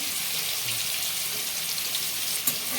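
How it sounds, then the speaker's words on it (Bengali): Shrimp fry in hot oil with turmeric, salt and chili powder, giving a steady, soft sizzle and fine crackle with no pauses, fairly quiet and even throughout. "চিংড়িটাও ফ্রাই করে নেব এই তেলের মধ্যে।"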